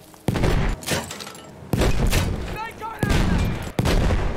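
Battlefield 1 gameplay with grenade explosions and gunfire in several loud, sharp bursts, each followed by a decaying rumble, with a brief rising whine in between.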